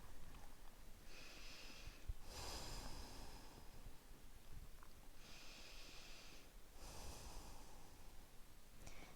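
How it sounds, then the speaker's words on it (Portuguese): Slow, steady nasal breathing during a yoga stretch, with long airy inhales and exhales repeating in an even rhythm, close and fairly quiet, with no talking. "Mantenha a respiração pelo nariz"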